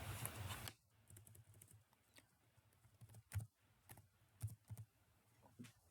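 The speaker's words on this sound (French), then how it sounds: "Il suffit de taper ici outlet." Soft, quiet keystrokes on a computer keyboard, entering text in QGIS: a few scattered clicks after a short opening noise, then irregular light taps in small clusters.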